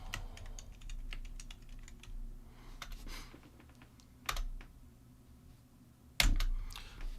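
Computer keyboard typing in rapid bursts of close, crisp clicks, with a few sharper louder key strikes and a low steady hum underneath, no one talking.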